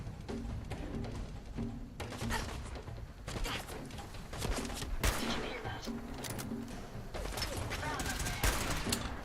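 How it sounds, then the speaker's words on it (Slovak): Video game Fallout 4 gunfire aimed at the player, with dense bursts of rapid shots and fusillades crackling throughout, loud and continuous, and voices in the game's soundscape mixed in. "Kto sa snaží po mne strieľať?"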